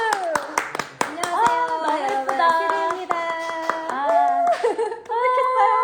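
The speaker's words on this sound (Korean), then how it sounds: "박수" A few people clap during a casual Instagram live chat with a singer, the sharp, spaced claps sounding close over ongoing voices and tonal background sound.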